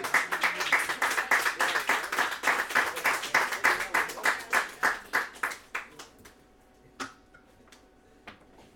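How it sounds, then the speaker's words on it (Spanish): Audience at a lively Spanish-language show clapping in a steady rhythmic beat, loud and even for about six seconds before thinning out to a few scattered claps. "¡Un aplauso para él!"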